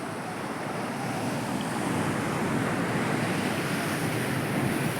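Heavy sea surf pounds the rocky, hole-pitted coast at Harihareshwar, Maharashtra, a steady, loud roar of breaking waves with wind buffeting the microphone throughout and no voices.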